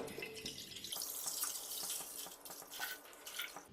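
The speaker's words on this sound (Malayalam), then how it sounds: "ഇനി നമുക്കിതിലോട്ട് പാൽ ഒഴിച്ചു കൊടുക്കാം" Milk poured into a large pressure cooker for Kerala-style pal payasam, a steady close liquid splashing and gurgling stream that rises and thins, alone without talk.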